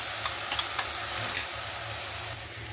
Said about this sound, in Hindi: ये भी हम डाल के अच्छी तरह भून लेते हैं, मसाला के साथ में